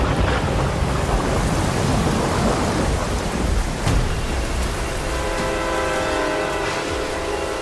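Heavy rain pours in a dense, constant roar while deep thunder rumbles through it, swelling near the middle and then easing into a softer rolling tail, with no voices.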